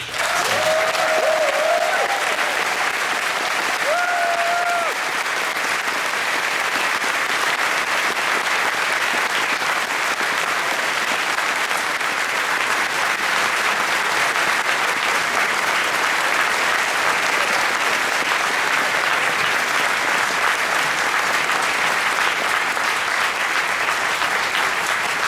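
A large convention crowd at the Eurofurence 28 closing ceremony applauds in a dense, sustained roar of clapping that holds steady for about 25 seconds. A brief tone sounds near the start.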